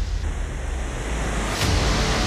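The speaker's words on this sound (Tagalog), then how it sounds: "Masyadong malakas tong bagyong to." Typhoon Uwan brings a loud, continuous roar of wind and crashing waves, a dense rushing wash that swells slightly toward the end.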